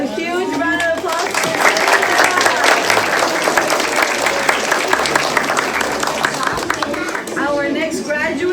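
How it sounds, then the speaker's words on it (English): Audience at a kindergarten graduation ceremony breaking into loud, sustained applause, dense clapping with cheers and crowd chatter mixed in, rising quickly and holding for several seconds. "A huge round of applause."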